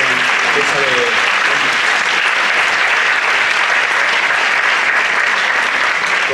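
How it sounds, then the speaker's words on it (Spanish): A congress audience in Toledo applauds in one dense, loud, continuous wash of clapping that holds steady for several seconds without a break. "pido un aplauso para la organización y para Ángel"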